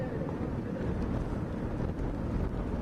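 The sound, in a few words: strong wind and rain of Cyclone Yaas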